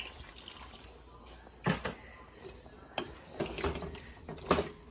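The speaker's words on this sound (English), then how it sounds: "now what I'm going to do is add 1 more cup of that hot water" Hot water poured from a cup into a pot of beef curry with potatoes, a few short splashing bursts over a quiet kitchen background, close by.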